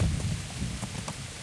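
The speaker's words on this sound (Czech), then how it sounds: "Krásně nám tady prší." Steady rain hisses through the medieval wilderness of the Kingdom Come video game, with a low rumbling bed and a few soft patters. No one speaks.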